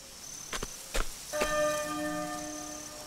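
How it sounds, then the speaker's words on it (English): A church bell rings in the video game Octopath Traveler II, with a few struck tolls followed by a long, resonant, shimmering ring that sustains and slowly fades, heard alone with no talk. "There's the bell again."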